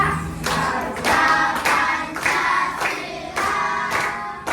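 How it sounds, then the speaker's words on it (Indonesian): A group claps along in a steady, regular rhythm while singing the Indonesian patriotic song Garuda Pancasila in a classroom, the claps and voices close and moderately loud throughout. "kita sambil tepuk tangan ya"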